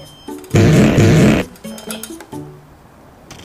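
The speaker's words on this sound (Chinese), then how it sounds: "哎呦，你放屁了呀" A single loud, sustained fart sound effect in a comedic blind-date skit, lasting about a second, breaks a quiet pause and is followed by softer scattered noises.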